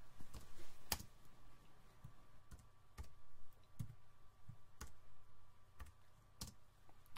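Steady, unhurried typing on a computer keyboard while entering figured bass symbols in music notation software, with scattered soft clicks and occasional sharper keystrokes and short pauses between them.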